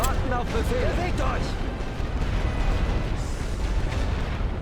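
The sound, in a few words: artillery bombardment in video game Great War Western Front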